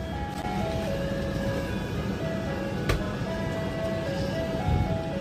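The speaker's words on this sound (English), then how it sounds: "now you can play this music now, because this is my favorite one" An ice cream truck plays its chiming melody up close and steadily, the tune carrying over a constant low engine rumble with a brief knock partway through.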